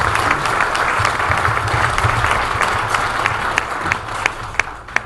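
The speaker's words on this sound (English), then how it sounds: "Round of applause," A luncheon audience applauds after a hospital presentation, dense steady clapping with sharp individual claps standing out, the sound thinning toward the end.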